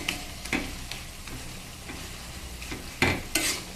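A utensil stirs ash gourd greens in a pan with a soft sizzle, giving scraping strokes at an uneven rhythm, sharpest near the end, with no talking.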